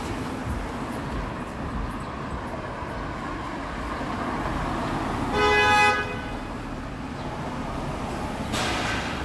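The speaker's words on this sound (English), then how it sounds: "One luxury SUV honking at another." Car horns on a Toronto street as one luxury SUV honks at another: a short double honk over steady traffic noise, then a fainter second toot a few seconds later.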